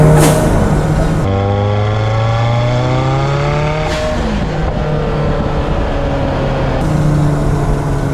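Kimera EVO 37, a carbon-and-aluminium Group B–style road car making 505 hp in 1050 kg, pulls hard under light throttle as its engine note climbs through rising sweeps, then shifts and climbs again, loud and close without talk.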